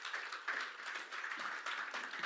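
A church congregation applauding during a service, steady soft clapping from many people heard at a distance, continuous and fairly even throughout.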